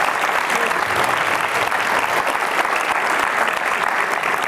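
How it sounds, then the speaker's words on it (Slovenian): An audience at a pop concert applauds the musicians, with steady, dense clapping filling the room at an even level throughout. "Tako da dajte še en aplavz še njim muzičarem."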